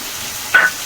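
A spice paste of turmeric, chili powder, ground ginger, cumin and garlic hits a hot pan with one brief, bright sizzle over a quiet background, close by and with no talking.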